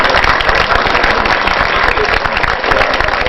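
Audience at a Hindi poetry gathering applauding together, a dense and loud sustained wash of clapping that stays even for the whole stretch.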